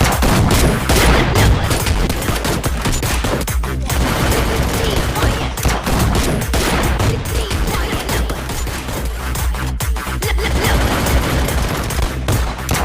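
Sustained bursts of gunfire from the Free Fire video game run continuously and loud for the whole stretch, dense overlapping shots with busy game sound throughout.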